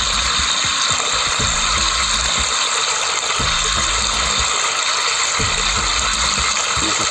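A portable washing machine runs a short wash cycle, its motor churning in repeated pulses of rumbling agitation that splash water, loud and close, pausing briefly between bursts.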